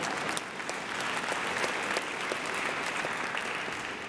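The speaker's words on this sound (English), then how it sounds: "you can even clap if you want here." A church congregation applauds during a sermon, steady dense clapping from many hands filling the whole stretch at moderate loudness, with no voices over it.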